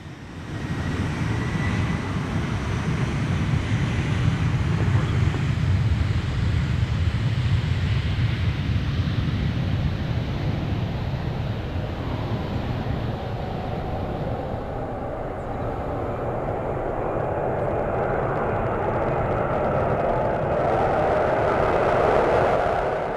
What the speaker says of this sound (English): less than 1 minute away from the departure of the L-1011